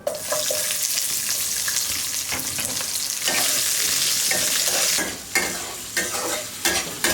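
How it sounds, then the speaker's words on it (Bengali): Onions frying in hot oil with whole spices (garam masala, bay leaf and cumin seed) for ghugni, a loud continuous sizzle broken by scraping stirs near the end. "পেঁয়াজটা লাল লাল করে ভাজা হয়ে গেছে"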